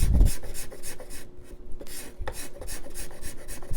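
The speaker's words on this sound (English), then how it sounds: "This is a thick scraper, by the way." A thick steel scraper rasps across the wood of a thinline electric guitar body, shaping the arm bevel in a run of close, regular rough strokes with a short pause midway.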